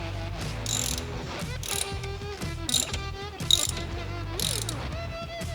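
Hand ratchet tightening the brake caliper bolts on a 2010 Jeep Patriot during a DIY brake job, several quick bursts of close, loud mechanical clicking with short pauses between strokes.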